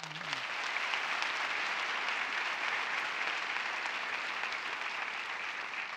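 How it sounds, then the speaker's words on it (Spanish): A studio audience at a television talk show applauds in a loud, dense, continuous wave of clapping that holds steady for about six seconds. "¡Un aplauso para ellos!"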